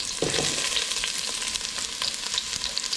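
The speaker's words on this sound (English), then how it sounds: "Throw the onions in there, that'll cool it down." Onions tossed into an overheated pot of cabbage soup fry with a loud, steady sizzle, broadband hiss filling the whole clip with a few brief spatters and stirring scrapes, no talking.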